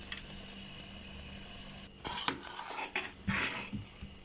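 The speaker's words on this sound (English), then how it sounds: "be sure to continuously stir so that it does not form lumps" Soji (semolina) stirred in a pan, with a soft sizzle and quiet scraping and clinking of a spoon against the pan in irregular strokes.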